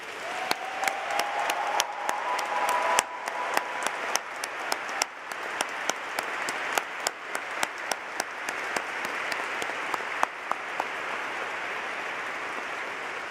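A graduation ceremony audience applauds in honour of a classmate, a long sustained round of clapping with individual sharp claps standing out near the microphone, gradually thinning toward the end.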